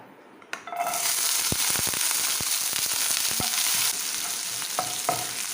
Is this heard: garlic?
yes